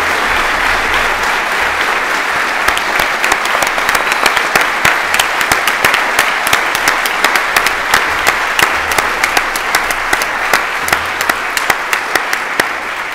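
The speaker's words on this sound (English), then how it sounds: "let's give everyone a huge round of applause" A large audience at a school awards ceremony applauds the First in Course winners, a loud, sustained wall of clapping that holds steady throughout with a few sharper claps standing out near the end.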